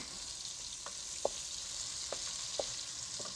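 Sliced onions fry in oil in a pan, giving a steady, fine sizzle throughout, punctuated by a few soft clicks and knocks of a stirring spoon at irregular intervals.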